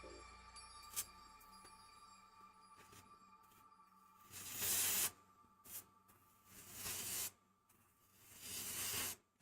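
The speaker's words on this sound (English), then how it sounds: "We are going to spray this over the lava to give it a good hard coat." An aerosol can sprays sealant in several hissing bursts, each lasting about a second, with quieter rattling and handling sounds in between.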